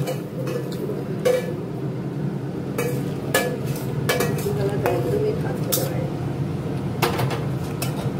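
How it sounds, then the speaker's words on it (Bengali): Cabbage, potato and capsicum frying in a pan, with steady sizzle under repeated clinks and scrapes of a utensil stirring against the pan, while a person talks nearby. "এবারে মা সব ভেজিসগুলো একে একে ভেজে নিচ্ছে।"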